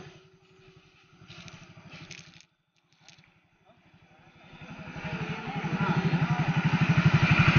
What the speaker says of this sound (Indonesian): Coba saya yang bawa motor.